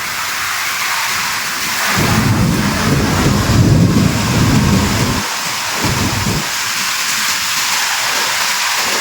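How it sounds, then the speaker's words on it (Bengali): Thunderstorm with strong wind and heavy rain, a steady close roar of rain and gusts that swells into a loud rumbling surge of thunder midway, then eases back to a constant wash. "আর দেখ কি হারে ঝড় বৃষ্টি শুরু হয়েছে"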